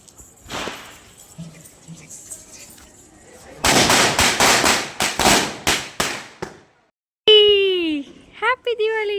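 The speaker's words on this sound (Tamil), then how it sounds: "அடுத்து வந்து வெளியே போய் பட்டாசு வைக்க போயிட்டோம்." A rapid string of sharp Diwali firecracker bangs crackles nearby, followed by children's voices chattering excitedly.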